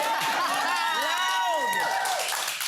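A studio audience claps and cheers in a dense, steady burst, with whoops rising over the applause for nearly three seconds.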